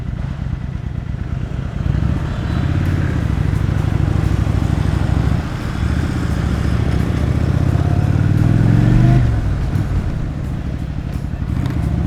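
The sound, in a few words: Kawasaki VN 800 C Drifter motorcycle engine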